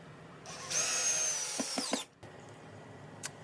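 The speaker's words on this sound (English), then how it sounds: "secured the 3-inch block to the 2x4 and to the base plate with the 3-inch wood screws" A power drill drives a 3-inch wood screw into a wood block, a short, rising motor whine lasting just over a second with a few knocks before cutting off, followed by a faint tap.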